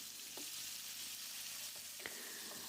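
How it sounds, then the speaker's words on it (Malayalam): Butter melting in a hot pan gives a steady, quiet frying hiss, with a few faint clicks and one brief pop; there is no talking. "ഒരു പാൻ വെച്ച് ചൂടായതിന് ശേഷം അതിലേക്ക് കുറച്ച് ബട്ടർ ചേർക്കുക"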